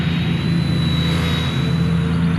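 An Eachine E110 helicopter spy drone flies outdoors with a steady high-pitched rotor whine and low motor drone, heard continuously and fairly close against wind rumble.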